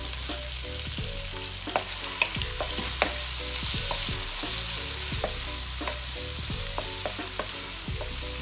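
Garlic frying in a pan during a coconut steamed butter fish recipe, a steady loud sizzle and crackle with scattered small pops and utensil taps, close throughout, no voices.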